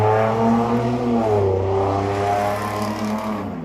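A loud car with dual exhaust revs outside, its engine note climbing and sagging in long sweeps as it roars steadily nearby with no talking.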